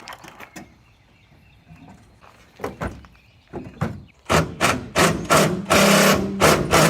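Air impact wrench driving bolts on a Curt receiver hitch being installed on a Toyota Tacoma, starting with scattered clanks and thunks, then a run of loud, close rattling bursts in quick succession.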